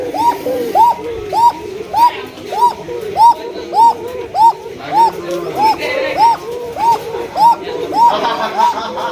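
Pigeons coo in a steady repeating rhythm, about a dozen close, clear rising calls spaced roughly evenly, with other birds and soft voices faintly underneath.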